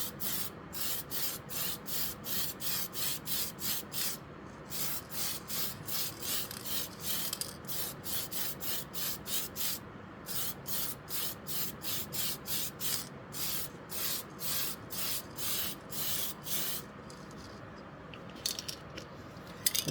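A paintbrush strokes another coat of paint onto a 1/2500 scale AMT USS Enterprise refit model starship. Soft, close rhythmic swishes repeat in an even back-and-forth pattern, with occasional brief pauses and no talking.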